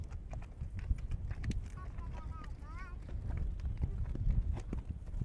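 Hooves of a horse bought for 1000 rupees clip-clop as a child rides it outdoors, a steady uneven patter under gusting wind noise, with a brief whistling tone in the middle and faint voices around.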